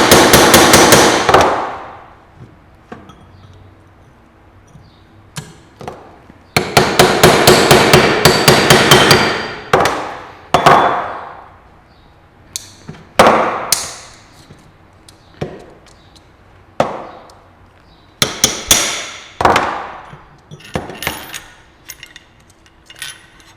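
A hammer drives a chisel to knock the cone off a car steering box, with loud, close metallic strikes that come singly and in quick rapid flurries, separated by short pauses.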